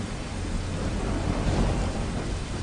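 Steady rain with a low thunder rumble filling a dramatic fantasy film scene, a continuous broadband wash with no voices over it.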